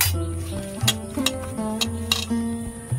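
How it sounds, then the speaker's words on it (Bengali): Fish pieces being hand-mixed with salt, turmeric and chili powder for Bengali fish kalia, a close, steady squelching and stirring with a few sharp clicks of a bowl, no voices. "এখন আমি মাছগুলো ভালো করে মাখিয়ে নেব।"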